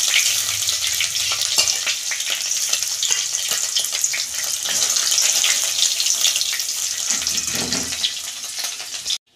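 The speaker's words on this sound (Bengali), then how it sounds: "অল্প লাল করে ভেজে তুলে নিচ্ছি।" Paneer frying in oil until lightly browned, a steady loud sizzle that carries on without a break, with a few clinks of utensils and no talking.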